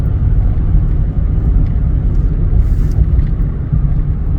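Car driving along a road beside the Colorado River, a loud steady low rumble of engine and road noise heard from inside the car, without talk.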